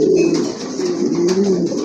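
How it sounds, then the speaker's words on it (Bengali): Male domestic pigeons coo loudly and close, a sustained warbling call rising and falling without pause over a brief stretch. "এই যে দেখেন কবুতর ডাকে কেমনি, মাশাআল্লাহ অনেক ভালো ডাকে"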